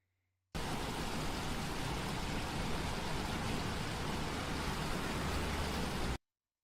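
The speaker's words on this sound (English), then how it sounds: "It's just like a normal gas station with a lot of rain." Heavy rain pours at a gas station in a video game, a dense, even hiss that starts abruptly, holds steady for several seconds, then cuts off cleanly.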